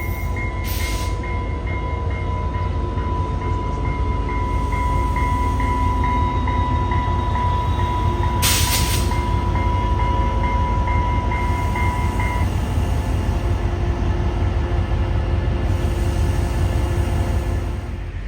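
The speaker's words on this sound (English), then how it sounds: "An overcast Wednesday morning gives us the 2913 gliding into the station" A Trinity Railway Express passenger train arrives at a station, rumbling steadily close by for a long stretch, with a high tonal whine and a couple of brief sharp hisses over the continuous roar.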